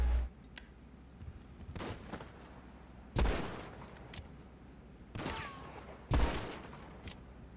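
Rifle shots in GTA V, a handful of sharp cracks spaced a second or so apart, each with a short echoing tail, over a low background rumble.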